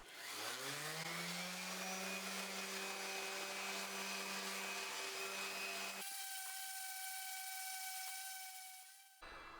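A router cutting a 3/8 inch roundover on wooden bassinet edges: a loud, steady high-pitched whine, then the tone shifts and thins as the bit spins without load before cutting out.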